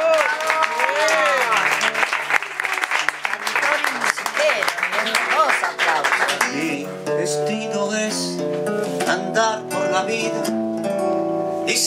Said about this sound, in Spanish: Un aplauso por aplauso.